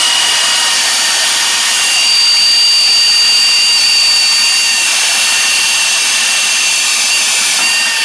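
A power tool, likely a pneumatic impact gun, loosening the upper shock absorber bolt on a car during a DIY coil spring swap, a loud continuous high-pitched whine and hiss lasting the whole time with no talking.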